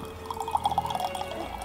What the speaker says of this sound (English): First, we're going to fill our cup with water.